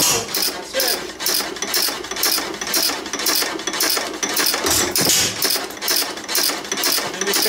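An old engine runs with a fast, steady mechanical clatter and periodic ticking pulses, close and fairly loud throughout, with a brief dip near the middle.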